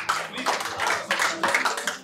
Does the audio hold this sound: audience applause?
yes